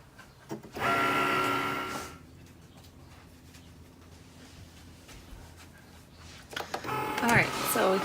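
An electronic cutting machine loads a mat and cuts material, a steady mechanical whir with harmonic tones running loudly for about a second, then quieter motor noise, followed by a busier burst of movement near the end.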